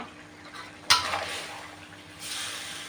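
Cleaned wood ear mushrooms tossed into a pan of frying chicken giblets with ginger, a sharp clatter and burst of sizzling followed by a steady hiss that swells again briefly.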